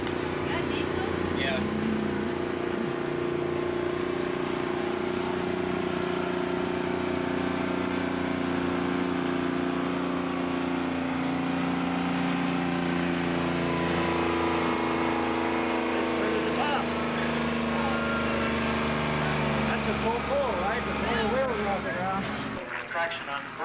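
Heavy pulling tractor weighing over six tons, its engine running with a steady low drone and rising revs throughout, loud and close, while a crowd and announcer talk over it.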